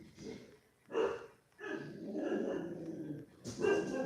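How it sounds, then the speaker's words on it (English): A pet dog barks and yips at close range in a home, a few sharp bursts with growly, whimpering sounds between them. "my husband's taking them out because Leonard's barking"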